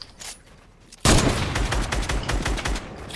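Rapid gunfire in the video game Fortnite, a sudden loud burst of repeated shots that continues densely for about two seconds after a quieter lead-in.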